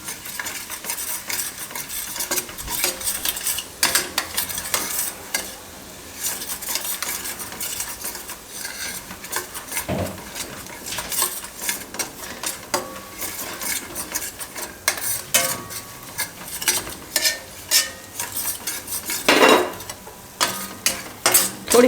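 Milk is stirred little by little into a mixture in a pan while making desi-style pasta, giving continuous scraping and clinking of a utensil against the pan with soft sizzling, uneven rhythm, close and alone.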